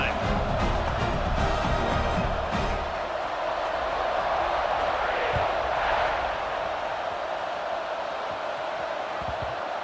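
A stadium crowd in an American football video game roars as a steady, dense wash of cheering and noise, with a few thumps early on and voices talking over it.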